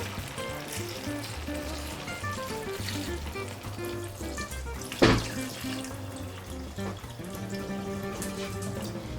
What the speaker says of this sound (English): just adding water to this